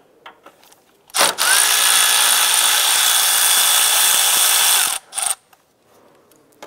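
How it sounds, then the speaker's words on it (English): A 10 mm socket on a power driver spins a bolt out of a 2001-2005 Honda Civic during an air intake install, giving one loud, steady whir of about four seconds, followed by a brief second burst, close up. "Using a 10 millimeter socket, we're gonna go ahead and remove this bolt right here."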